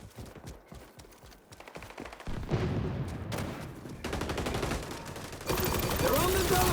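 Rapid automatic gunfire from an XDefiant shooter match, starting after a few quiet footstep-like taps and building into dense, loud, close bursts that grow more intense toward the end.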